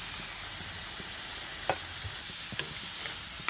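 Potatoes fry in a pan with a light coating of flour, giving a steady close sizzle and hiss with a few sharp utensil taps and stirring clicks scattered through.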